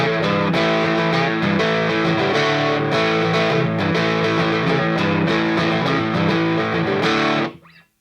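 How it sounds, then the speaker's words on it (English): A Silvertone 1303 U2 reissue electric guitar with lipstick pickups, played through an Outlaw Dumble Overdrive pedal into a Marshall Origin 50H head, rings out in sustained overdriven chords and notes before cutting off abruptly at the end. "I'm playing through an Outlaw Dumble Overdrive pedal into a Marshall Origin 50H head."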